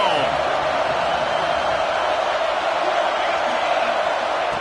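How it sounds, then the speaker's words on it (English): A sports stadium crowd at a football game roars in a steady, continuous wash of cheering with no pauses, loud and broad from start to end. "This crowd ready to make its presence known."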